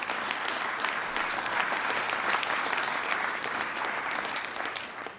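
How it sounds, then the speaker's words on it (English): Sustained applause from a large audience at a nuclear energy event, steady and dense throughout before easing slightly at the end, with no talking over it. "Give them a big round of applause"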